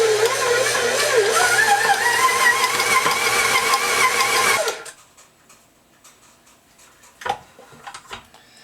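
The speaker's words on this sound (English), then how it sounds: "knead it with the dough hook for a minute or two" Stand mixer with a dough hook kneading Amish bread dough, a loud steady motor whir for about four and a half seconds that stops abruptly, leaving quiet room noise and a couple of faint knocks.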